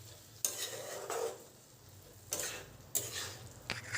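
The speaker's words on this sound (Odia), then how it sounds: "ମସଲାକୁ ଭଲ ଭାବରେ ଭଜା ସହ ମିଶାଇ ନେବା।" Ground spice paste is stirred and fried in a pan for an Odia bitter gourd dish, with a soft steady sizzle and several sharp scraping strokes of a spoon against the pan, heard close up.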